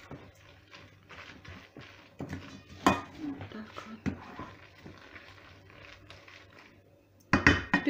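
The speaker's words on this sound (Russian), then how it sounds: "Все это перемешаю, пока яйца с кабачками, с солью." A utensil clinks and scrapes against a bowl while stirring zucchini fritter batter of eggs, zucchini and salt, with irregular taps and a louder clatter near the end, fairly quiet overall.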